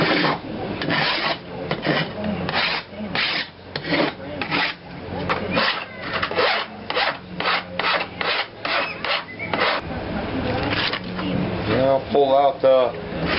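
A hand file rasps along metal edges of a homemade go-kart or reverse trike fender, removing burrs in a steady run of repeated strokes close by, with a voice talking over the work.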